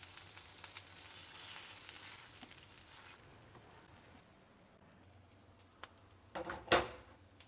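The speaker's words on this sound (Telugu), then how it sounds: "ఇప్పుడు రెండు వైపులా చక్కగా ఫ్రై అయిపోయాయి." Guntha ponganalu fry in a pan with a soft, steady sizzle that fades a little, then a few clinks and a sharp clatter near the end as they are turned or lifted.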